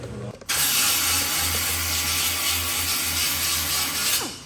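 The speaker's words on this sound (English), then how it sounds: "So I'll grind that down now, and that's permanent body filler." A power grinder starts abruptly and runs loud and steady, grinding down bronze body filler on a 1923 Model T body, with a harsh continuous rasp and low motor hum, winding down at the end.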